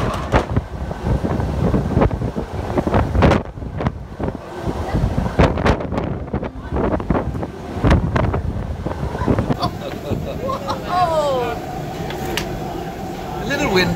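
Strong wind buffets the microphone near a cruise ship off Hvar Harbor, roaring in heavy gusts with surf and water noise beneath, while people talk over it.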